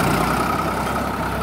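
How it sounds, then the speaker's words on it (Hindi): A Sonalika DI 50 DLX tractor, a 24-speed model, runs with its engine in second gear, giving a loud, steady, close diesel rumble that holds constant through the short stretch, with no voices. "दूसरे गियर में पड़ा है ट्रैक्टर, और भाई ने इसका शटल लीवर से ही गियर बदल दिया। अब ये दूसरे की स्पीड से ही पीछे चलेगा।"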